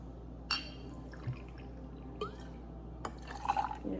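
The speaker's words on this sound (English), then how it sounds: "You just pour that right over the ice." Citrus vodka is poured over ice in a glass. It comes as soft drips and splashes with a few clinks, and a steady low hum runs underneath.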